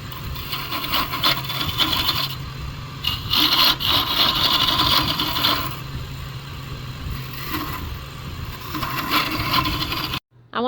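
A wooden ring mounted on a mandrel in a Jacobs chuck is turned on a lathe, giving a steady, close scraping and rasping of the tool against the wood that continues throughout and then cuts off abruptly near the end.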